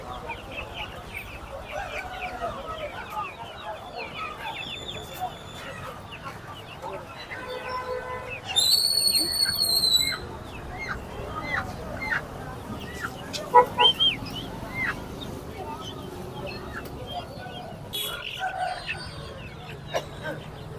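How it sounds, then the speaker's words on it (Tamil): Chickens cluck steadily and a rooster crows once, fairly loud, at a busy goat and poultry market in Ranipet, with a low crowd murmur underneath. "கருங்கோழி"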